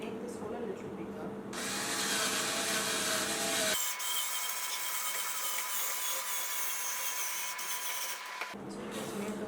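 A power drill fitted with a larger bit bores out an existing hole during a building job, giving a steady whirring grind of several seconds with a change in tone partway through, close to the microphone.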